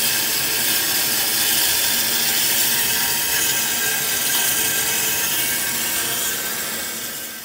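Steel spindle from an Infiniti G37 being cut, a loud continuous harsh grinding-sawing noise that holds steady for several seconds before tapering slightly at the end.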